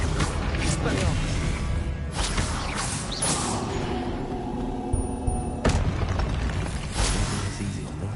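Spell effects from the Hogwarts Legacy video game, including an Expelliarmus disarming spell: repeated booming bursts and crashes that rise several times over a steady game soundscape, with a voice speaking between them.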